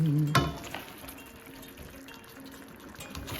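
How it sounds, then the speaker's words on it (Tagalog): Chicken curry with Thai curry paste being stirred in a pan, giving a steady close-up sizzle with scraping and sloshing, plus one sharp clatter near the start. "Yung curry paste natin from Thailand. Ayan. Haluin lang natin. Haluin ng mabuti."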